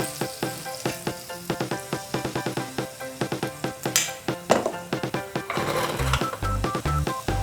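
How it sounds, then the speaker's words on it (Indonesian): Pancake batter fries in a hot pan with a steady crackling sizzle, broken by rhythmic scraping and tapping of a utensil against the pan; louder, denser frying wells up near the end. "Dan tuangkan adonan lempeng ke dalam wajan penggorengan."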